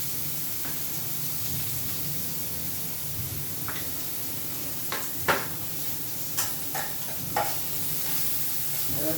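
Spices and crushed green chilli with turmeric frying in a pan, a steady hiss of sizzling oil with a few scattered clicks and scrapes of stirring in the second half.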